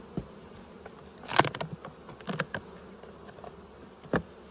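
Honey bees buzz around an opened wooden hive during an inspection, a soft steady hum punctuated by a few louder close passes as individual bees fly near.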